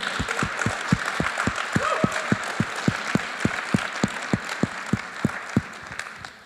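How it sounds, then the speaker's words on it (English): Audience applause at a biotech startup demo day, with one pair of hands clapping in a loud, steady, even rhythm up front while a softer spread of clapping from the crowd fills in behind it for several seconds. "we could give you a round of applause"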